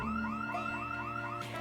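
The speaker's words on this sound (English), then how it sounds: "set off another house alarm." House alarm going off in the video game Project Zomboid, a loud steady electronic wail rising and falling in quick repeated sweeps with a constant tone underneath, alone.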